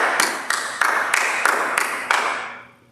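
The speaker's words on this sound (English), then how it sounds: "So give yourselves a round of applause," Slow, steady hand claps in a children's Bible-focus class, about eight evenly spaced loud claps close by, fading into quiet at the end.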